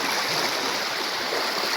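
A steady rush of rainwater runs continuously off fields after a heavy downpour, like runoff pouring through a channel nearby.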